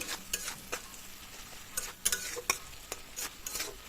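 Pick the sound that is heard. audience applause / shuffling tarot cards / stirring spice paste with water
stirring spice paste with water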